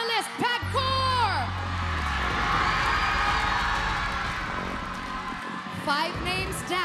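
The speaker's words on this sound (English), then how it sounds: "We need to hear you cheer for your finalist" A television talent show audience cheers loudly, a roaring crowd with whoops and yells that swells and sustains for several seconds, with an announcer's voice briefly at the start and end.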